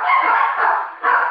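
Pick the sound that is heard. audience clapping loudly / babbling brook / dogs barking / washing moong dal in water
dogs barking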